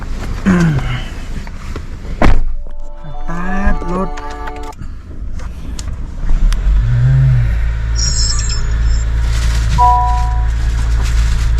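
A Honda HR-V e:HEV hybrid car setting off, with a steady low interior rumble building after a few thumps and clunks and some scattered tonal noises.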